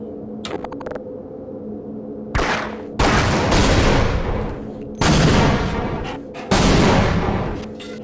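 Loud explosions from the video game Half-Life: Opposing Force, several heavy booming blasts in succession with long rumbling decays over a low background hum.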